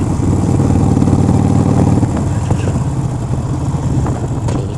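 A motorcycle engine runs loud and close with the revs held up, a steady throaty drone with slight rises and dips in pitch.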